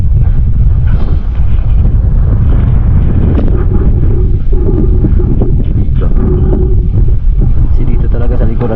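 Cold mountain wind at the Lake Tabeo campsite in the Philippines buffets the microphone in a constant loud roar with gusting surges, overwhelming other sound throughout.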